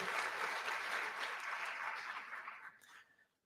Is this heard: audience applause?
yes